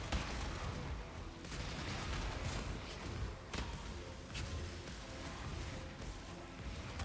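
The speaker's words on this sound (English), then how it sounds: "That is so much crap exploding." Explosions in a video game, a dense barrage of booms and sharp blasts piling on one another with sudden cracks, heavy and continuous rather than distant.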